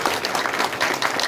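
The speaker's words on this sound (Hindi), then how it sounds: "ताली बजा दो पहले एक बार" Indoor audience at a CRPF training centre session clapping together on request, a steady dense burst of applause filling the whole short stretch without voices.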